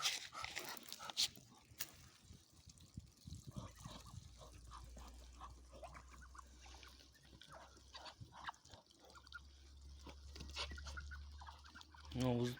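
A very large rooster on a duck farm calls amid a clamour of farm animals, with a dog barking and poultry clucking throughout, fairly loud bursts over a low steady rumble, with some talk.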